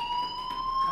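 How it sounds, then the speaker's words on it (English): A fire alarm in the video game Life Is Strange rings with a steady, piercing electronic tone, loud and continuous over its short length. "do you hear that fire alarm? That means you should be outside."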